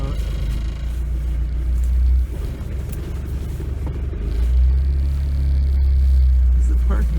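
A 1986 Ford Escort diesel wagon whose parking brake does not work idles with a steady low diesel rumble, then the engine note swells as it backs out, while someone talks over it.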